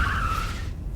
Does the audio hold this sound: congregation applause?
no